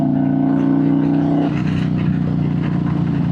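Harley Davidson motorcycle engine with a Tury throttle controller revving steadily under throttle, a loud continuous mid-pitched rumble that eases slightly partway through, close by with no talk.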